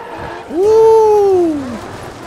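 Tire squeal from a car drifting in the racing game Grid Autosport, a single loud rising-then-falling screech lasting about a second, with game engine noise underneath.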